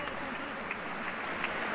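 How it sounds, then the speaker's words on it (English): A large chamber audience at the 2014 State of the Union address keeps up dense, continuous applause, a steady roar of many hands that holds evenly throughout without pause. "the applause continues a little bit longer because that's the way they do it"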